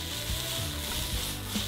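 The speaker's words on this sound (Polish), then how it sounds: "Jak już się ładnie wszystko przesmażyło, dodaję czosnek." Garlic joining already fried hard vegetables (beetroot, onion, carrot) in a wok makes a soft, steady sizzle with a few faint stirring scrapes, no voices.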